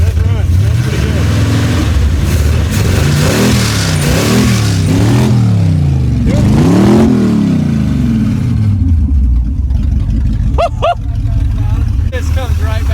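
An abandoned Chevrolet C10 truck engine running with no exhaust revs up and down in several loud, rough surges, then settles back to a lumpy idle while people talk over it.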